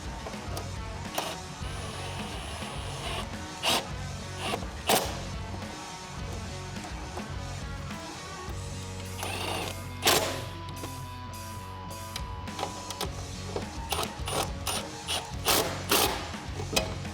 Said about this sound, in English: Then we can grab a 10mm socket, tighten those up.